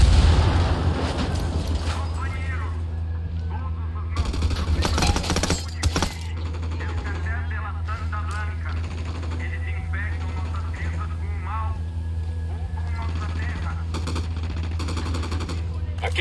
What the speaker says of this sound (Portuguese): Aqueles sicários estão atirando muito nesse emissor.